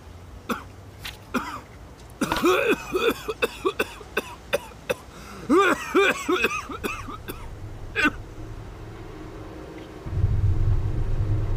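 Several sick prisoners cough in bursts, harsh and close, a cluster of overlapping hacking coughs and throat clearing, with a low rumble swelling at the end.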